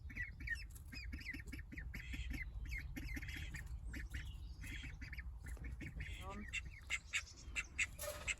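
Pet duck quacks and squawks repeatedly in a rough, steady rhythm, fairly close but quiet, with bursts of other bird calls and a few louder knocks near the end.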